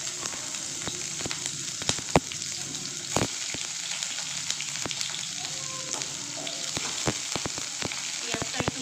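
Onion sizzles in hot oil in a pan with dried red chilli for a masoor (red lentil) dal with radish-green stems: a steady crackling fry with occasional sharp spatters and a few stirring clicks, no talk.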